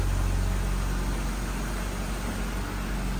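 A brand new Jeep engine runs steadily at idle, a low mid-pitched hum with a constant rumble and a faint high whine, loud and even throughout with no voices.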